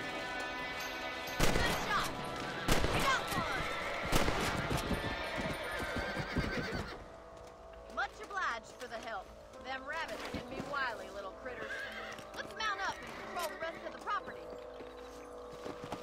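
In Red Dead Redemption gameplay, a horse whinnies and hooves clop amid a burst of rapid gunfire early on, followed by quieter hoofbeats and game ambience, with someone talking over it.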